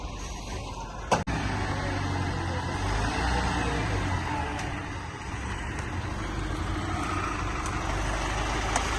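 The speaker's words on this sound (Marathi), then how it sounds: "गोडाऊनमध्ये जाते आपल्या गाडी आता" A goods truck reverses into a warehouse, its engine rumbling steadily and close throughout, with one sharp knock early on and faint background activity.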